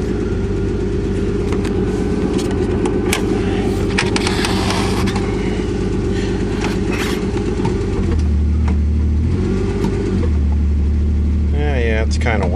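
An old Ford Fairmont with failing brakes cranks and runs, its engine droning loud and steady close by and rising into revs near the end, while a voice talks over it.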